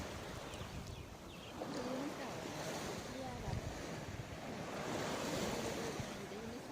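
Sea waves wash steadily onto a beach, a soft continuous surf mixed with wind buffeting the microphone, and faint voices in the background.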